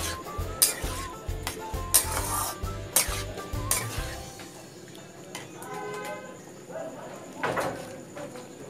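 Water is poured into an egg tadka in a pan and stirred, with a run of rhythmic spoon scrapes and clinks against the pan followed by a softer bubbling simmer and occasional knocks.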